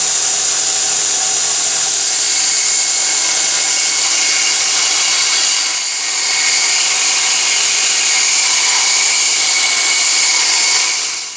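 A belt grinder with a badly worn belt grinds steel plate, giving a loud, steady, bright hiss close to the mic with a brief dip partway through before continuing.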